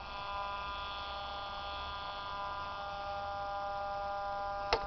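A radio picks up a steady electrical hum radiating from Joule ringer LED bulbs running off solar power through a rheostat, a constant buzzy tone with stacked harmonics, ending in a brief click.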